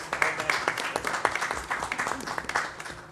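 A short burst of applause from a small audience at an artists' talk, scattered claps forming a steady patter that holds for a few seconds.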